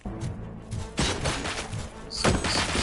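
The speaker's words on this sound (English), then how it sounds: "Gunshots? What's going on?" Gunfire in a Robocop game, a few sharp bursts and thuds in quick succession over a noisy background.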